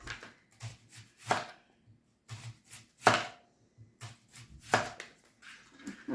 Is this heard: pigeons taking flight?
no